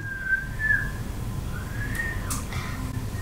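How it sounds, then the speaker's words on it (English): A girl whistles two short rising-and-falling tones, close and clear over a low background hum, with a brief higher chirp near the end. "Can you believe she knows how to whistle"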